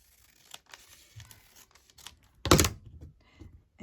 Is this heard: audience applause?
no